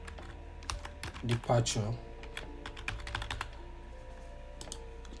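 Rapid bursts of computer keyboard typing, a run of crisp keystrokes through most of the stretch, fairly close and moderately loud, with a brief spoken word partway through.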